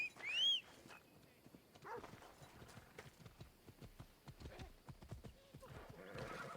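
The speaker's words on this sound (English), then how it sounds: "Even when I tell the horse to come here and then I stand still, the horse just kind of runs off and does his own thing." A horse in Assassin's Creed Odyssey, with a sharp whinny at the start, then a steady run of hoof clip-clops across the ground, moderately close and fairly quiet, without voices.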